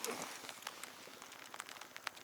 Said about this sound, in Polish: nic się nie dzieje, deszcz pada